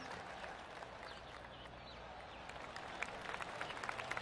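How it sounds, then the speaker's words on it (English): Golf claps from the gallery around a course in PGA 2K25, a soft spread of scattered clapping that picks up toward the end over steady ambient crowd noise. "I can hear the golf claps around the course"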